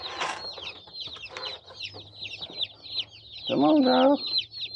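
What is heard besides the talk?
baby chicks peeping, buff Brahma chicks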